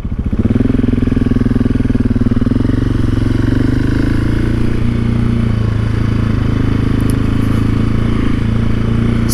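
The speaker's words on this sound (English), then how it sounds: "So just pulling out of my driveway" Motorcycle fitted with a Wings exhaust and Rade intake pulling out of a driveway onto a road, its engine droning loud and steady throughout with a deep rumbling tone.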